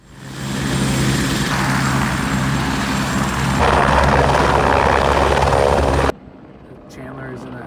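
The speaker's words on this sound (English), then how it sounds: "He gets lifted off in the helicopter, and I'm in the wilderness alone." A loud helicopter roars up close while taking off in wilderness, with a steady rotor-driven rumble, intensifying midway before cutting off abruptly, leaving quieter ambient sound.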